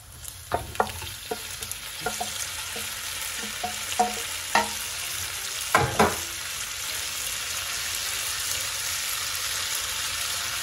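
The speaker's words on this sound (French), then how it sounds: "Et là, je vais rajouter les crevettes." Shrimp frying in a pan with garlic, a steady close sizzle punctuated by several sharp clinks and stirring knocks in the first six seconds, then settling into continuous crackling hiss.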